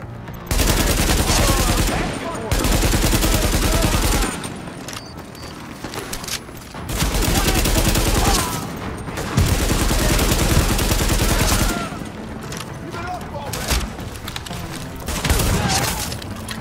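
Heavy automatic gunfire in The Division during a Lincoln Tunnel firefight, loud sustained bursts broken by short pauses, with game voices underneath.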